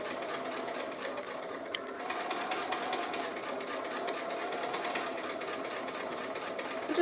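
A sewing machine stitches appliqué in dark grey thread on a house-design table runner, humming steadily and fairly quietly for the whole stretch without a break.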